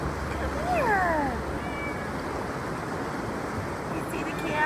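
A mother cat meows near water at a wild camp beside a parked Prius, two or three rising, wavering calls early on and a shorter one later, close, over steady wind and surf-like noise.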